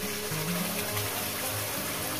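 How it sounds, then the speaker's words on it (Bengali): Water used to rinse the spice bowl is poured into a pan of fried onions and spice paste for egg curry, a continuous close gushing, bubbling sound with no speech. "মশলার বাটি ধোয়া জলটা আমি দিয়ে দেবো।"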